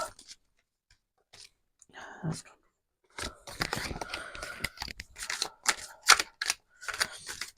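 Tarot cards are shuffled in quick bursts of riffling and slapping, close and crisp, after a quiet opening with a few soft handling sounds.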